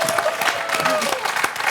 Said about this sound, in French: Georges, chaleureusement applaudi par le public, chaleureusement encouragé.